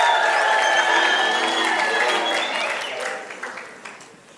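A crowd at a World Kiswahili Day ceremony applauds the Minister with loud, dense clapping that starts strong, then thins and fades to scattered claps.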